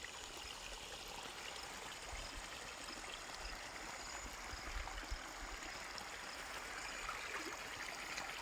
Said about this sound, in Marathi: इकडं पाणी चालू आहे आपलं